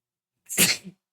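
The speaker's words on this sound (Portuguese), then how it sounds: "Agora começa a espirrar no meio da aula e lascou." A single close, loud human sneeze, short and sharp with a breathy burst, alone in silence.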